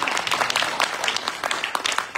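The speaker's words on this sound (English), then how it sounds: "Give him another hand clap." An audience at a Bible study gathering gives a short round of applause, dense hand clapping heard at moderate distance for a couple of seconds.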